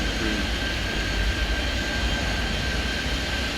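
A jet airliner in the Airport Madness 3D game rolls for takeoff, a steady loud engine roar with a thin whine on top, continuous and unbroken throughout.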